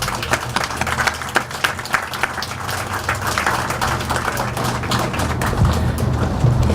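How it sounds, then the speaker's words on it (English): A crowd applauding for Colonel Jackson at a Jefferson Parish Memorial Day ceremony in 2019: sustained, dense clapping from many hands, steady and fairly loud throughout. "Ladies and gentlemen, let's give another round of applause for Colonel Jackson."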